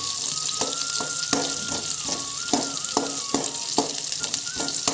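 Onion and chili masala fry in oil for a macaroni dish, producing a steady, moderate sizzle with rhythmic stirring clicks repeating about twice a second, and no one speaking.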